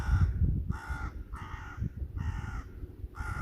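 A crow caws outdoors, five loud, harsh calls in a steady, evenly spaced rhythm, close to the listener and with no talking.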